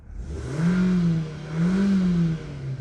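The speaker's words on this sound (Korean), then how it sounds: "만 사천 킬로 탄 차량의 엔진 소리입니다" A Renault Samsung SM3 Neo engine, about 14,000 km on it, catches and runs, revving up and easing off twice in smooth swells, heard close with no talking.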